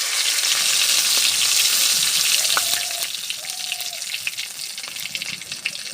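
Bay leaves fry in hot oil in a wok, a loud steady hiss that eases slightly partway through, with a few faint clinks and taps over the sizzle.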